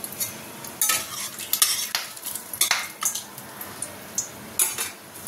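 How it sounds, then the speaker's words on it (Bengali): Bay leaves and whole garam masala fry in hot oil in a kadai, a soft sizzle under repeated scraping and clinking as a spatula stirs the pan. "এই কড়াই দিয়ে দেবো তেজপাতা আর অল্প একটু গোটা গরম মশলা।"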